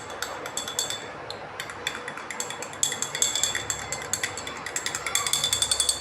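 Powder being beaten into warm water in a glass, a rapid rattling clink of a spoon or whisk against the container, fast and steady, close and bright, continuing throughout with slight surges.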